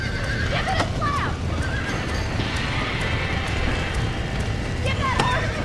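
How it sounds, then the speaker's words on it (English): Horses neigh and whinny over a steady drumming of galloping hooves in the Red Dead Redemption video game, with shrill calls repeating across a dense, continuous rumble; speech-like game sounds blend in but no words come through. "Give that horse a smack! Get it moving!"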